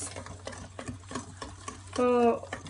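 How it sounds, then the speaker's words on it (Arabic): Whisk or spoon scraping and tapping through pancake batter made with milk, melted butter and a pinch of salt, a steady rhythmic stirring close by, with a short tonal hum breaking in near the end. "ونحركو مزيان الميلانج ديالنا"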